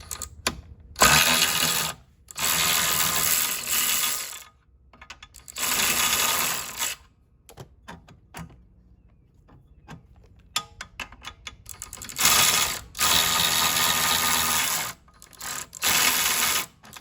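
Ratchet with a wobble socket turning the seat bolts while a torn seat cover is replaced, rapid loud clicking bursts of one to two seconds each, repeated about six times, close and alone with short quiet gaps between.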